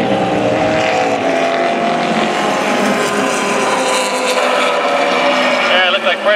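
Race cars, including a Camaro, lapping the circuit at Mission Raceway in a closed-wheel race: a dense, loud, sustained engine roar with shifting pitch, mixed with a commentator's voice talking over it.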